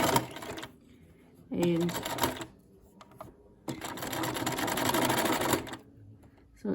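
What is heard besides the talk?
sewing machine zigzag stitching over cord threads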